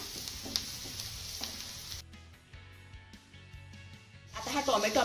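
Onion and finely chopped tomato frying in a pan give a steady close sizzle that drops to a quieter crackle with stirring in the middle, then surges loud again near the end.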